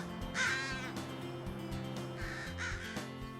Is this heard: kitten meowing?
no